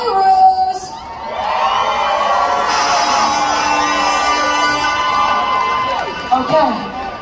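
A cruise ship dance party crowd cheers, whoops and shouts loudly and steadily for several seconds, a dense wall of voices with a brief lull near the start and tapering near the end.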